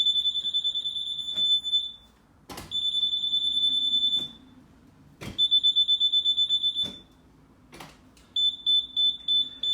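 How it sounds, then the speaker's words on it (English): High-pitched electronic beeping from a moisture sensor checking a wall for a roof leak, in rapid bursts, repeating several times with short gaps and sharp clicks between groups; no voices. "Now you notice the beeping sound is a lot less"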